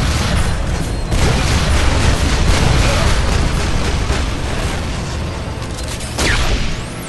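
RPG rockets exploding in the shooter game Duke Nukem Forever, a dense, continuous roar of loud, booming blasts with a fresh burst near the end, up close and filling the whole stretch.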